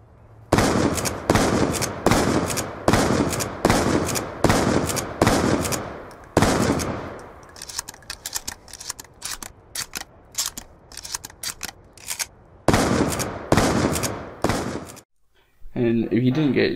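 A Remington gun fires in Call of Duty Black Ops 2: loud, sharp shots in quick, regular bursts, then a lighter, scattered stretch, then another run of heavy shots, ending in a brief near-silence.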